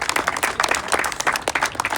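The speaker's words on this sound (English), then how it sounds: "Round of applause" A round of applause for participants at a gathering, brisk close clapping from a modest group, steady throughout the short stretch.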